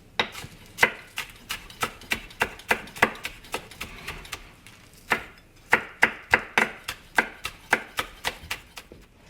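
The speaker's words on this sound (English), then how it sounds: "We'll just chop those up on an angle that makes them look nice." Green onions sliced on an angle with a knife on a cutting board, a fast, even run of sharp chopping knocks in two bursts with a short pause between, close and distinct with no talking.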